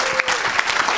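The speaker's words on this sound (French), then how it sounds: "acclamez très très fort pour Jésus" A church congregation at an evangelistic healing service cheers and applauds loudly, dense clapping with shouts over it, steady and close for the whole moment.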